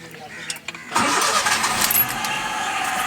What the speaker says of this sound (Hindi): अब हम इसको स्टार्ट करेंगे और स्टार्ट करने पर ये पावर स्टीयरिंग की लाइट चली जानी चाहिए